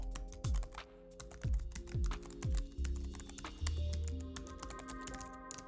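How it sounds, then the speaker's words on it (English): Someone types a web address on a computer keyboard, giving a quick, irregular run of close, crisp key clicks and taps in bursts, with no voices. "So we'll type that in now."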